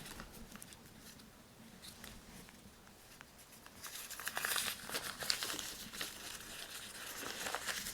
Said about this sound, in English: Scrunch it in as much as you can. You're putting wrinkles into this thing.